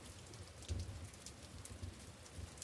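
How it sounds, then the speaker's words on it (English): Gentle rain falls steadily and softly, a quiet even patter with faint low rumbles, no voices. "the gentle rhythm of the rain"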